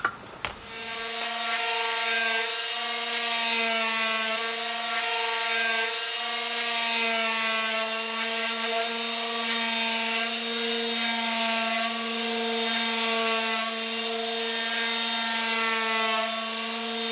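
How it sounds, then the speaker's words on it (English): A saw cuts through plywood for a Delica van conversion, a sustained droning whine that holds steady and loud for the whole stretch after a brief knock at the start. "We've cut 3 pieces of plywood"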